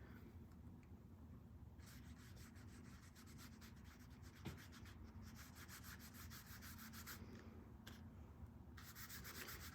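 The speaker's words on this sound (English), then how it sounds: "And rubbing super lightly on the paper." Very light rubbing on paper while painting a grasshopper nature art piece, a faint, steady, close-up scratchy brushing that continues without pause.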